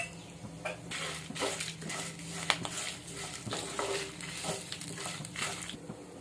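Dried red chilies frying in a pan alongside tamarind for a bitter gourd spice powder, a steady close sizzle with scraping stirs and one sharp clink of a utensil against the pan.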